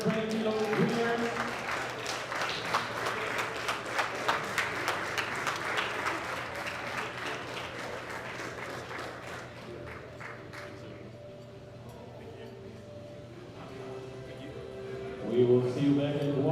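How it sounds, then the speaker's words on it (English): An audience at a junior 120 kg classic powerlifting world championship applauds for about ten seconds, a dense clapping that fades out, and then a voice speaks over a hall microphone. "Another round of applause for your 120 kilo juniors."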